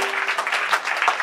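Church congregation breaking into steady applause, a dense continuous wash of clapping hands filling the room for its whole length.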